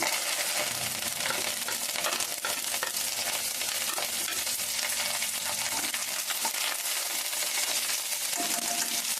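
Green chillies sizzle and fry steadily in a pan with oil, a dense continuous crackle broken by occasional stirring scrapes, close and fairly loud with no talking.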